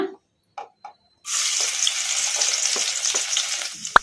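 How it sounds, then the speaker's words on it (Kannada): Finely chopped garlic hits hot oil in a kadai with a sudden loud burst of frying, then a steady close sizzle with occasional stirring scrapes, after a few quiet taps. "ಬೆಳ್ಳುಳ್ಳಿ ಆಸೆ ವಾಸನೆ ಹೋಗೋವರೆಗೂ ಫ್ರೈ ಮಾಡ್ಕೊಂಬಿಡೋಣ"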